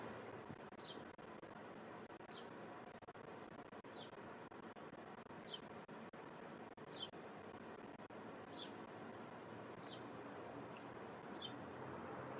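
A bird outside chirps faintly in short, evenly spaced calls, about one every one and a half seconds, over a steady low background hiss.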